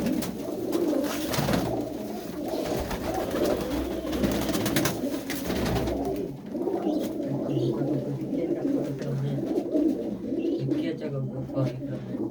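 Low, soft cooing of pigeons in a loft with perches and nest boxes, repeated murmuring coos close by, with someone talking over them.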